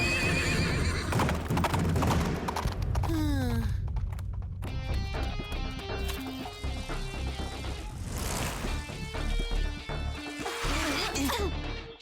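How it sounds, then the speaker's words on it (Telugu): A black horse neighs and whinnies while its hooves clip-clop in a trotting rhythm, set against a dense, loud bed of music that continues throughout. "ఒక అందమైన నలుపు గుర్రం వేటగాళ్ళు వేసిన ట్రాప్ లో ఇరుక్కుపోయింది."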